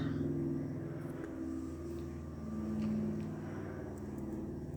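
Airplane flying overhead: a low, steady rumbling drone that swells and eases across the whole stretch, fairly faint and distant, without any talking.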